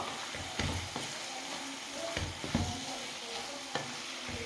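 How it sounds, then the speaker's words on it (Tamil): Cleaned prawns sautéing in a pan, a steady sizzle of frying with repeated scraping clinks of a spoon stirring at an irregular rhythm, close and moderately loud with no talk. "இந்த ஸ்டேஜில் நம்ம சுத்தம் பண்ணி வச்சுருக்கிற ப்ரானை இதில் சேர்த்துக்கலாம். சேர்த்துட்டு அப்படியே ஒரு 2 நிமிஷம் நல்லா வதக்கிக்கலாம்."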